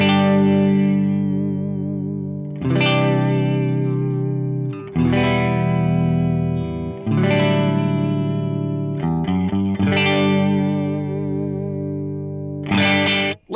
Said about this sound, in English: I've got the ODS100 clean amp model and the 4x12 Rumble Dynacab. This is what it sounds like.